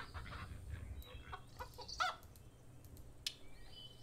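Cartoon chickens cluck in the mobile farming game Hay Day, short scattered clucks and chirps over a soft background loop of game music and interface sounds.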